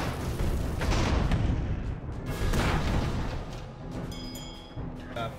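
Grenades burst in the airship battle game Airships: Conquer the Skies in a heavy rumbling wall of blasts and booms, loud and continuous for several seconds before thinning into smaller pops and metallic clatter.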